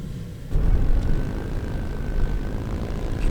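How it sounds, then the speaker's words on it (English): A small camera drone hums outdoors in a Southern Utah landscape, its propeller drone swelling louder as it comes down to land and holding a steady buzzing tone, with no talking. "So I got the drone back down"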